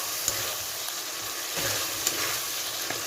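Chopped tomatoes sizzling and frying in a spice mix in a pan for Bengali fish curry, a steady close hiss with a few soft stirring scrapes and no voices.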